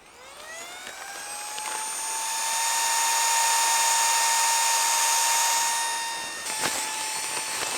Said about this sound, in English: I'm just going to use the pump and inflate this bad boy